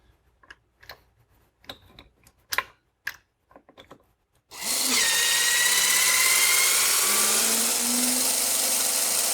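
A HYTORC torque gun run in reverse to loosen a Porsche centerlock wheel: first some scattered clicks and knocks as the tool is fitted, then a loud, steady high-pitched whirring drone that holds to the end.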